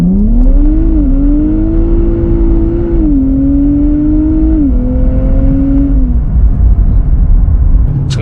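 A 2023 Nissan Z's 400-horsepower twin-turbo V6 drones steadily at close range, its pitch climbing and dropping in steps as the gears shift, with a low rumble underneath throughout.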